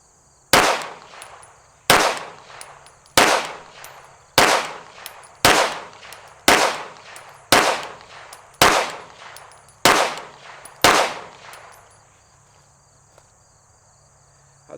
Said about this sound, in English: We're going to fire a 10-shot group at the bottom right target.